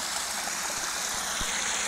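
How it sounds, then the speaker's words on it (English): Stream water flows steadily and close by as it is caught in two half-liter bottles outdoors, a continuous broadband rush with faint low gurgles throughout and no speech. "So great, I found some water. I'll be catching approximately 1 liter."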